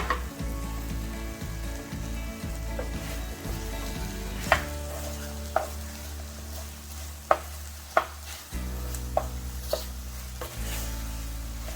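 A steady sizzle of chicken frying in sauce in a pan, with occasional sharp clinks of a utensil against the pan as the chicken is stirred.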